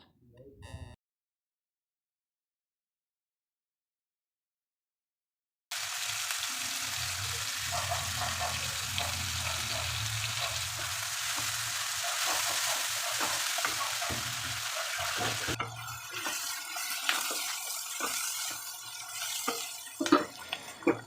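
After a few seconds of near silence, peas, onion and tomato start frying in oil with a loud, steady sizzle. Stirring and clatter break through the sizzle toward the end.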